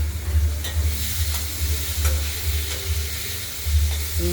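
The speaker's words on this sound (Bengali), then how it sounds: "মাছ করতে গেলে তো আলুগুলো আমরা একটু ভেজে নেই একটু পরিমাণ মতো হলুদ দিয়ে দিই" Potatoes fry in oil with turmeric in a pan, giving a steady close sizzle with a low hum beneath and occasional soft scrapes of stirring.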